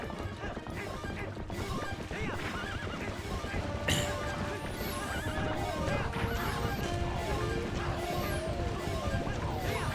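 A horse in the video game Zelda: Twilight Princess HD whinnies and gallops with steady clip-clop hoofbeats during a mounted chase with swordplay, loud and continuous over a busy, dense game soundtrack.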